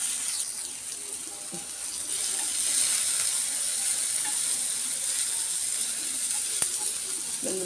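Ragi vermicelli frying in a pan gives a steady, close sizzle that continues without a break and swells slightly partway through.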